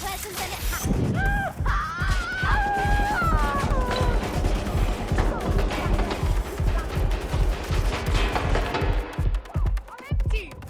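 Gunfire crackles in a shootout in the video game Watch Dogs, a dense, sustained barrage of loud shots under voices and game sound effects.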